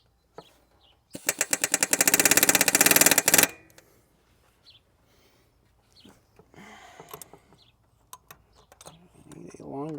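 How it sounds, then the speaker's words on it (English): An air hammer chisels at a fan clutch on a 1997 Chevy Suburban in a rapid, loud burst of hammering for about two seconds, followed by quieter scraping, clinks and brief talk. "I'll try the air hammer method"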